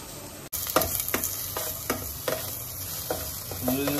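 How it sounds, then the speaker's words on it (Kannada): Chopped onion and garlic caramelizing in a pan for chicken soup give a steady, close sizzle. Repeated scraping stir strokes come at a regular pace, with no talking. "ಆನಿಯನ್ ಒಂದು ಸ್ವಲ್ಪ, ಗಾರ್ಲಿಕ್ ಒಂದು ಸ್ವಲ್ಪ ಹಾಕಿ ಕ್ಯಾರಮಲೈಸ್ ಮಾಡ್ಕೋಬೇಕು"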